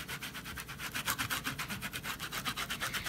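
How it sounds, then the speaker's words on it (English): A sponge dabs paint onto custom paper in quick, rhythmic scrubbing pulses, roughly four or five soft rasping strokes per second, close and quiet with no voices. "the abrasion, what's it called? Abrasion, did sort of eat away at my sponge"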